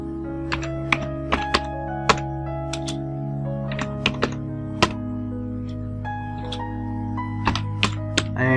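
Computer keyboard keys tapped while entering text into a graphics editor, with scattered sharp clicks and short bursts over a steady musical background; no talking.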